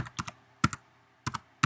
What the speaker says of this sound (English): I'm just going to start typing header.